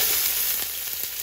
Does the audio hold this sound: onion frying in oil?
yes